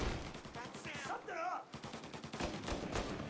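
Gunfire from a shootout in the Mafia: Definitive Edition video game, a dense run of rapid shots with a brief lull, loud and close, mixed with game voices and sound effects.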